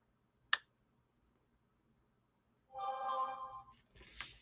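A mobile phone sounds off in a quiet craft room: a sharp click first, then after a pause a short bright electronic notification tone with a brief tail, faint and alone with no speech.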